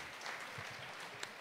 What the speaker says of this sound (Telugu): వారందరికీ గట్టిగా చప్పట్లు కొట్టిస్తా.